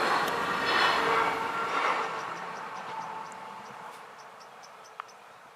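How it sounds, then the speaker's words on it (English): An RhB Capricorn train passes beneath towering cliffs, a broad rumble building early then easing as it rolls away, with crickets chirping steadily over the fading noise. "A Capricorn passes in front of the impressive cliffs that overlook the towns of Aegis and Sietzers."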